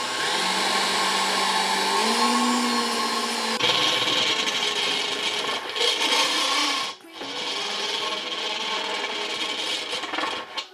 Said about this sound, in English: So now we're just gonna start drilling it.